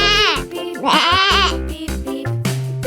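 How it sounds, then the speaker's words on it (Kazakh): A goat bleats loudly and close, with two quavering cries in quick succession, over a soft musical backing. "Бұл ешкі."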